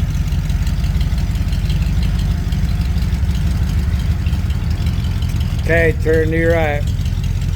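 A Ford F100 truck with shortened glass pack mufflers idles steadily and close by, a low continuous rumble running the whole time, with a person talking briefly near the end.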